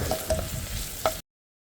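Goraka pieces frying in hot oil for a pork curry, a soft steady sizzle with a few brief stirring scrapes, close by and without talk.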